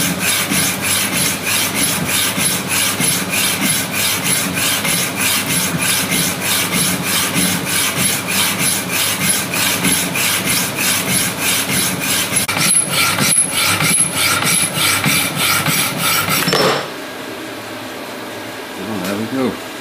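Harsh, steady cutting noise of a blade going through metal for a 5-inch gauge locomotive tender, with a rapid grinding texture that stops suddenly near the end.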